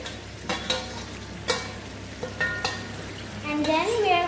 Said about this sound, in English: Now we will put all the marinated mutton in the pan,